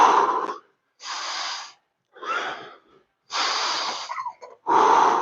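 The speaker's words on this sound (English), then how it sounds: "I need to focus on breathing" Heavy, forceful breaths during a squat workout: five loud exhales and inhales in a steady rhythm close to the mic, each a rushing burst separated by brief silent pauses.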